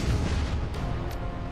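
Aimed burst of gunfire in the video game Shadowrun Hong Kong, heard as a dense, booming low rumble of rapid shots that fills the moment without any talk.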